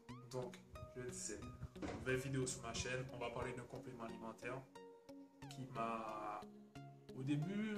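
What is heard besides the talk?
pet cat meowing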